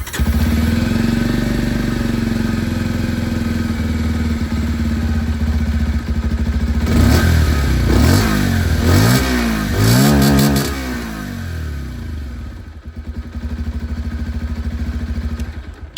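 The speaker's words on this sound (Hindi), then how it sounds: "एग्जॉस्ट साउंड आप लोग सुन लीजिए।" Bajaj Pulsar 125 motorcycle exhaust, loud and close: a steady idle thrum, then a burst of sharp revs rising and falling in pitch around the middle, before settling back to a lumpy idle.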